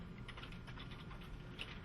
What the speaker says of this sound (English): just send an email message that I will type up quickly